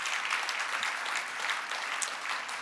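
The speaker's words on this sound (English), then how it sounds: "that really does deserve a round of applause" An audience at a university alumni awards ceremony claps steadily, a dense, even roomful of applause that holds throughout.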